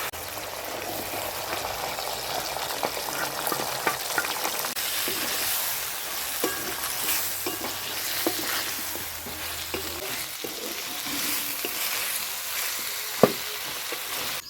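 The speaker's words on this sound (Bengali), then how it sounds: "মশলাগুলো আমার সুন্দর কষানো হয়ে গেছে, এখন আমি এই ভেজে রাখা সবজিগুলো দিয়ে দেবো" Mixed vegetables, fried beforehand, sizzle and crackle as they go into a pan of well-cooked spiced masala, with steady frying hiss and intermittent stirring scrapes throughout, close and moderately loud with no talking.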